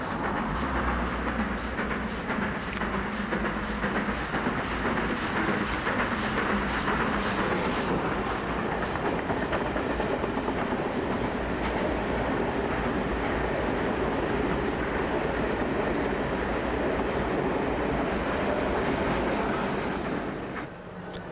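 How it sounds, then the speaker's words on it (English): A 1922 Metropolitan main line electric locomotive runs steadily along the rails, a loud continuous rumble with rhythmic clickety-clack and some wind buffeting, passing close and sustained throughout with no talk. "Sarah Siddons was one of 20 similar locos built in 1922 to haul compartment stock on the Metropolitan main line"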